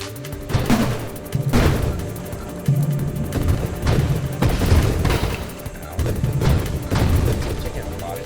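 Repeated grenade explosions in the space shooter game Nova Drift, a run of heavy booming bursts that come in clusters with short gaps, loud and continuous across the stretch, layered over busy game effects.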